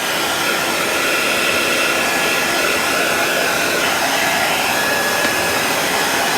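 A hair dryer blows steadily on a Valentine craft project, a continuous loud whooshing drone that stays constant throughout with no talking.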